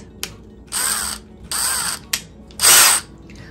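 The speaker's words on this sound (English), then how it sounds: "I'm going to drill all the way through the board." A power drill whirs in three short bursts with brief clicks between, the last burst louder and harsher as the bit drills through a wood board.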